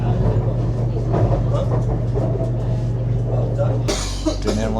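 Inside a moving Bangkok Skytrain carriage, a steady low rumble and hum of the running train fills the clip, with a brief burst of brighter mechanical noise near the end.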